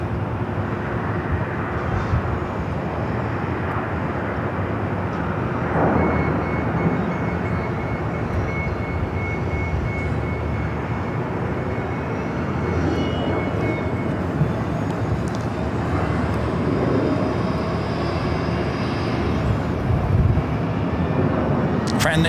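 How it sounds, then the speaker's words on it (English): Lufthansa Boeing 747 airliner, flight 457 bound for Frankfurt, on the north side at LAX, heard as a continuous broad jet rumble at a distance, with occasional talk and radio over it. "Got the Lufthansa Queen heading up here to the north side, flight 457, heading back to Frankfurt"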